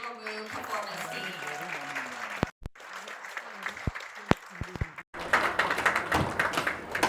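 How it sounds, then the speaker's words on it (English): Applause for Ogomu drum dance performers at a gala dinner, with claps under music and tonal sounds at first, then a fuller, dense burst of clapping swelling near the end. "Let's give another round of applause to the Ogomu performance team"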